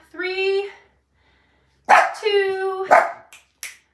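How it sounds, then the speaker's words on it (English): A pet dog named Maple barks indoors in a few loud, close, harmonic bursts separated by short silences, with a sharp click or snap near the end. "my dog's letting you know it's time to switch"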